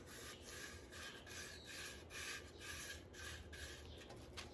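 A chippy brush loaded with shipwreck wax scrubs over the outside of a pot in quick rhythmic strokes, a close, quiet, dry rubbing with no talk.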